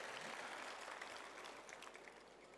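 Hall audience at a Hindi comedy poetry recital giving a short round of applause, a dense, fairly faint patter of clapping that tapers off over a couple of seconds.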